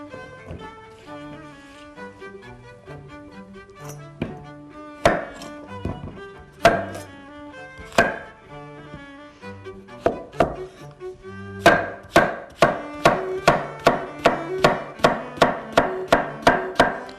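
Zucchini being sliced with a knife on a cutting board, a series of sharp chopping knocks that start sparse and turn into a quick regular rhythm, close and crisp over soft background music.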